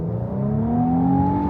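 A 2025 Infiniti QX80 Autograph accelerating from inside the cabin, its engine note rising steadily in pitch as a smooth, tonal growl over a low rumble, with no talk.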